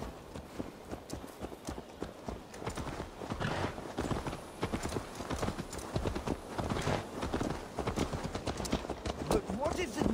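Rhythmic hoof clip-clop of a horse trotting in the video game Assassin's Creed Valhalla, steady and continuous over a busy background with voices and music-like sounds.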